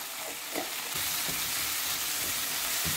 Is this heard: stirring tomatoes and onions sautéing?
yes